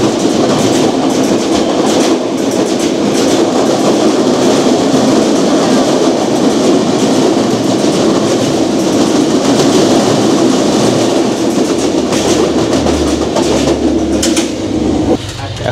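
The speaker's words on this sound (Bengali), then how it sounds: "এখন আমাদের ট্রেনটি ছেড়ে দিবে" Rupsha Express passenger train running on the rails, a steady loud rumble and clickety-clack of wagons throughout, with faint voices in the carriage beneath it.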